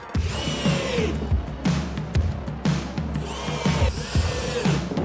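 A power drill drives small screws into wood for an ice sled, several short whirring bursts with rising and falling motor pitch and brief pauses between screws, close and loud.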